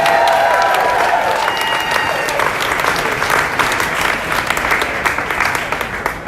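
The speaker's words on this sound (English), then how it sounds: "One more round of applause for all of them." Loud applause from an audience at a political event in Brooklyn Bowl, dense clapping that runs strong through the clip and thins slightly toward the end.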